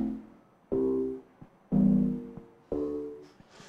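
A short synthesized sequence coded in Sonic Pi with a set BPM: three evenly spaced tonal hits, each decaying before the next, fairly quiet and alone with no talk.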